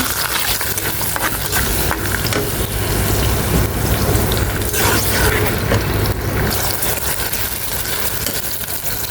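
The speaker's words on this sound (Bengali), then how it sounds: "এখন হচ্ছে রোস্ট রান্না করব পেঁয়াজ বাটা দিয়ে দিলাম ফার্স্টে" Onion paste sizzles and fries in a hot pan as a roast is started, a loud continuous crackling hiss with some clattering, close by and without talk.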